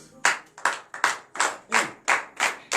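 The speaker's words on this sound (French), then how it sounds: "Il faut applaudir, il faut apprécier ça." A congregation at a Saturday morning prayer service in Benin claps in unison, eight sharp, evenly spaced claps in a steady rhythm, close and clear, with no talk over them.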